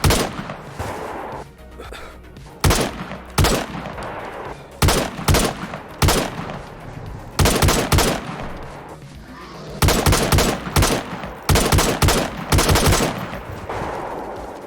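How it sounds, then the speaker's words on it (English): SKS rifle fire in DayZ, heard as sharp, loud single shots and quick clustered bursts spaced irregularly over about fifteen seconds, with a faint background hum between the shots. "pulled out my SKS, and started picking off this filthy congregation"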